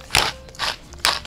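Pepper mill grinding pepper over a potato salad in three short gritty ratcheting bursts, close and fairly quiet with pauses between.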